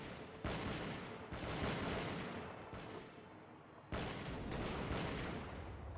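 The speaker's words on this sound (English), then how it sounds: "my men are firing at the bushes" Soldiers firing muskets in the video game Bannerlord Europe 1700, rolling volleys and crackling shots from many guns that surge in dense bursts, loud and continuous.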